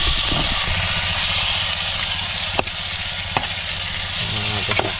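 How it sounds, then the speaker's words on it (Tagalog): Pork sizzles and fries in its own rendered fat, a loud, steady hiss with occasional sharp pops and stirring clicks, no talking. "Prito natin yung sariling mantika."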